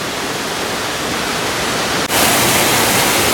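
A waterfall on a mountain hike roars as a dense, steady rush of water, loud and close, growing brighter and fuller partway through with no voices over it.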